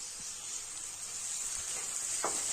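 Two chopped small tomatoes added to a hot pan for potato kurma, giving a steady bright sizzle with a few soft knocks and scrapes of stirring, close and even throughout.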